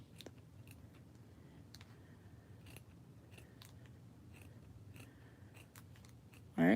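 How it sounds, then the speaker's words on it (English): Scissors cutting layered Dollar Tree felt into a circle: a series of crisp, close snips at an irregular rhythm over a quiet background, ending with a sudden louder noise. "Alright, so I'm just cutting a circle."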